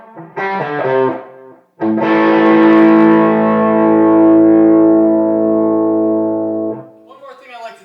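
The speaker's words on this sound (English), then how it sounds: "that's where that great echo tone is coming from, the delay tone" A distorted electric guitar chord through a Jet City amp rings out after a short choppy phrase, sustaining with repeating delay echoes before fading, followed by faint talking.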